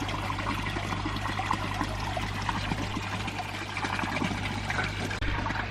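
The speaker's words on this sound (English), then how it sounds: "there's air stones all the way across, producing bubbles, which produces oxygen for your fish" Continuous bubbling and gurgling of garden pond water from air stones, a steady rushing trickle close by with no voices.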